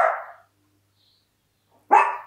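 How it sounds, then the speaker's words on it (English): A dog barks twice, fairly close, with one sharp bark at the start and another after a long pause of silence. "I'm just waiting to see if the dog's going nuts."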